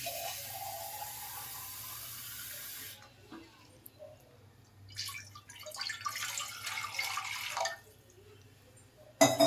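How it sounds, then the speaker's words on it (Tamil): Water splashes and trickles into a pressure cooker, with a steady low hum beneath and a brief clatter near the end. "குக்கர் வச்சு ஒரு சொம்பு தண்ணி ஊற்றிக்கலாம்"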